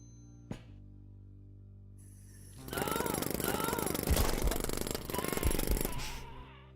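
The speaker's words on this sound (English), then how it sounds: "There's something so ridiculous about using a jackhammer to murder people." A jackhammer used as a weapon in the game Quasimorph chatters loudly and steadily for a few seconds. It follows a sharp click and brief quiet, with heavy impacts layered through the burst.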